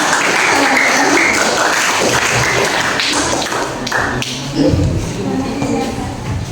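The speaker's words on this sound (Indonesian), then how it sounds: "Kasih tepuk tangan dong" Students and staff clap in a school room during a junior high training session for poll workers ahead of a student council election; uneven, close applause with scattered taps mixes with voices.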